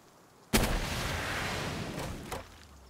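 An aerial missile attack in Palworld hits with a sudden loud boom and blast that roars on for about two seconds before a final thump, with no talking over it.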